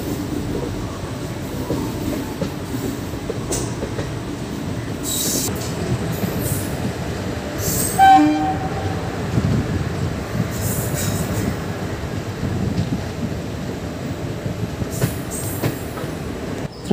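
The Thirupathi Express rolls along its rails on a journey near Tiruvannamalai, with a steady rumble of wheels and some faint squeals and clicks. About midway a short, bright tone stands out, and no voices are heard.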